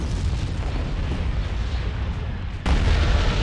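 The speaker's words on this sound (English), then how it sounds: "There go the proton torpedoes." Proton torpedoes fire in a Star Wars space battle game, giving a loud, dense rumbling blast that roars steadily and surges louder near the end, with no voices over it.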